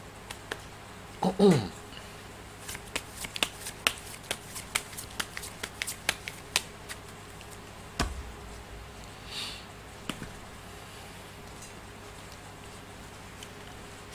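Fortune-telling cards are shuffled in quick, crisp riffles and snaps, close and fairly loud, with a speaking voice heard alongside.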